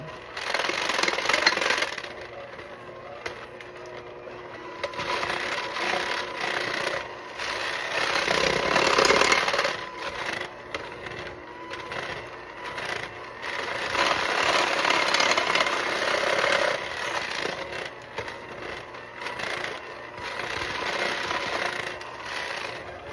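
An electric mixer beats shortbread thumbprint cookie dough until it turns crumbly, a steady motor whir rising and falling in loud stretches with quieter pauses between.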